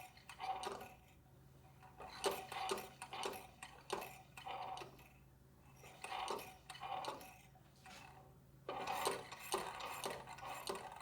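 A perpetual motion gadget running, a faint rhythmic series of light mechanical ticks and clicks in uneven bursts, close and quiet with no talk.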